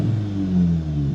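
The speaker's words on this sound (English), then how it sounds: "We can hear the car rev, no pops and bang." An Audi S3 8V engine revving upward toward the soft limiter, a steady rising drone held briefly at high revs, close and fairly loud, with no pops or crackles.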